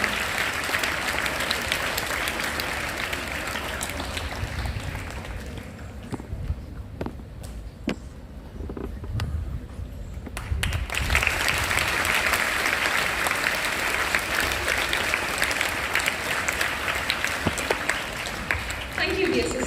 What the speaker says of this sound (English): welcome our new teacher, Mrs. Sandhya, with a applause